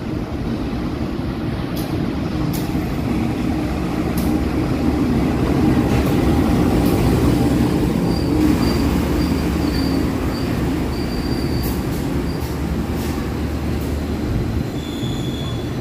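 Inside the Bandung Raya commuter train running toward Cicalengka, a steady loud rumble of wheels on rail continues throughout, with faint high wheel squeals now and then.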